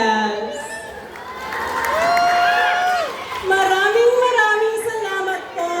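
A fiesta pageant crowd cheers and whoops for a contestant, with loud shouts and high voices rising over steady crowd noise for several seconds.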